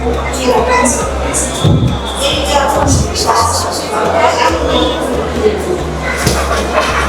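Dense crowd chatter fills the busy arrival and departure hall of Kathmandu airport, a continuous loud murmur of many voices with shuffling and occasional louder exclamations throughout.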